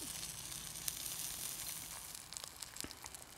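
Whole brown trout sizzles softly in a hot pan on a Firebox stove, a steady faint crackle broken by a few sharper pops near the end.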